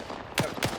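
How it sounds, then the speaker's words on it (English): Two sharp gunshot bursts from a PKM machine gun in a competitive online shooter match, spaced about a quarter second apart, fairly close and loud over a low background hum. "There were some gunshots, though, from Raven"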